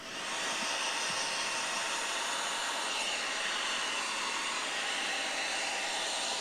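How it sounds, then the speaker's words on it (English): A hairdryer blows steadily at close range, drying heavy chipping fluid on a scale model, a constant broadband whoosh running unbroken from start to finish with no talking. "So if I get out the old hairdryer now,"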